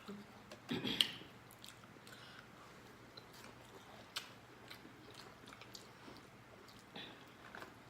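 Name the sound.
chewing seafood during a mukbang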